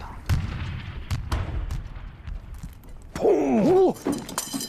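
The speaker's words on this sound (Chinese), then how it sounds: "炮击量太大了，攻势肯定撑不住。" Artillery bombardment in a Chinese war film about the Battle of Unsan, with Chinese volunteer troops fighting American forces. Scattered dull booms and sharp distant blasts, faint to moderate, are broken by a short stretch of shouting voices.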